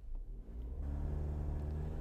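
A 2018 Toyota C-HR with a CVT accelerates under full throttle in normal mode, its engine droning into a steady rising hum and rumble heard from inside the cabin, with no talking.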